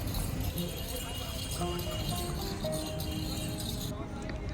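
Horse hooves clip-clop during a tourist horse ride in Jaipur, a steady rhythmic clatter heard among street noise, with voices talking over it.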